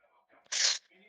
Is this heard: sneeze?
yes